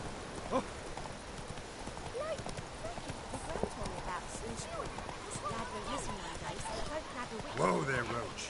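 Roach's hooves clip-clop in a steady, close rhythm in The Witcher 3 while a voice talks over the game sound, with a louder hoof flurry near the end.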